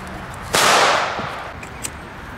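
A single sharp firecracker bang bursts out, followed by a fading crackle and a smaller pop, heard outdoors against steady background noise.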